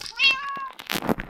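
A cat meows in the Minecraft video game: one clear, close, rising-and-falling meow followed by a brief rougher cry, alone with no talking.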